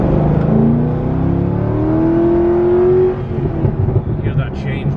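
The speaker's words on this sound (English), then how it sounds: "Listen to the crackles. This is factory exhaust too, by the way, and it sounds great." A Corvette Z06 Carbon Edition with factory exhaust revs up hard, its pitch climbing through gears in a loud sustained roar, then drops off into rough burbling crackles.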